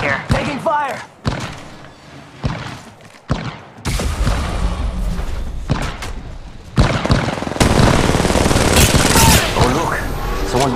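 Gunfight in Apex Legends Mobile, with heavy bursts of automatic fire and thudding impacts that start and stop, then build into sustained shooting, while a player talks over the action.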